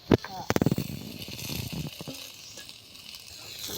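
Fish curry with flat beans and potato being stirred in a pan, with a quick burst of scraping clatter early on, then a steady soft sizzle continuing to the end.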